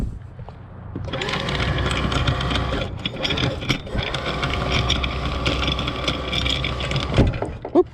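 An anchor windlass on a 1988 Ocean Yachts 48SS hauls in new anchor chain with a loud, steady mechanical whirring and rattling that starts after a quiet second and runs until it stops abruptly near the end.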